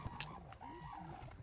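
Red-crowned cranes call in short honking, trumpeting notes in a winter wildlife spot in northern Japan, fairly faint and mixed with other bird sounds, with no voices.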